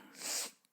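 A person's short, breathy snort or sharp sniff ahead of a sneeze, close to the mic and fairly quiet, rising and fading within half a second, followed by a tiny click.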